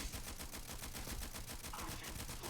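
Rapid automatic gunfire from an AK000 smart-round rifle in Starfield, a dense, continuous burst of evenly spaced shots that runs loud and unbroken through the whole stretch.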